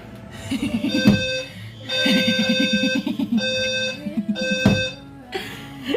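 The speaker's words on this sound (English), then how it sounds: "with the earplugs, the alarm is so much better" A building alarm going off in repeated electronic beeping bursts with a piercing tonal ring, loud and close, with short pauses between bursts, heard indoors during a morning live stream.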